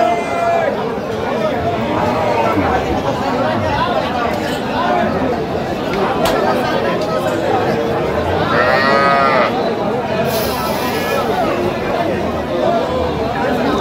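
Cows and calves at the Aftabganj cattle market, with a few close moos rising above the steady crowd chatter and bargaining voices.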